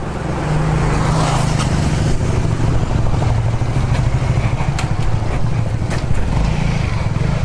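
A motorcycle engine runs close by with a steady, rough, loud drone and some clattering, holding fairly constant throughout.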